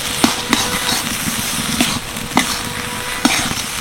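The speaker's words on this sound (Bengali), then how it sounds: "এবার মিশিয়ে নেবো ভালো করে।" Potato curry with grated raw mango is stirred in a hot pan: a steady sizzle runs underneath, and several sharp scraping strokes come at irregular intervals, close and fairly loud.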